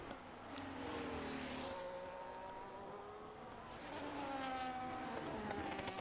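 A Ferrari race car in a racing game takes the final two corners at Austria, its engine note rising, dropping on lifts and climbing again, steady and prominent throughout.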